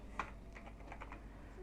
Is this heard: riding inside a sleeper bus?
no